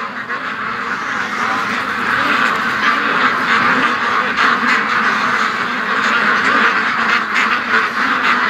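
Domestic ducks in a cold, windy yard keep up a dense, continuous quacking close by, many birds calling over one another with no pauses and no voices.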